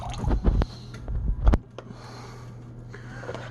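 Blueberry wine must drips and squishes off a tool just lifted out of a fermenting batch, a few wet splats and drips close by, then quieter trickling.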